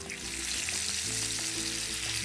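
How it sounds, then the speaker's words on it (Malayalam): Masala-coated fish pieces fry in hot oil, giving a dense, loud, continuous sizzle with constant bubbling crackle close up. "ഓയിൽ ചൂടായതിന് ശേഷം നേരത്തെ മസാല പുരട്ടി വെച്ചിട്ടുള്ള ഫിഷ് ഓരോന്നും ഇട്ട് കൊടുത്തിട്ടൊന്ന് ഫ്രൈ ചെയ്തെടുക്കുക."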